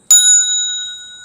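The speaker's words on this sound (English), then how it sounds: "when I ring one of these bells that I brought back" A bell brought back from a trip is struck once and rings out alone with a bright, sustained metallic tone that slowly fades over about a second.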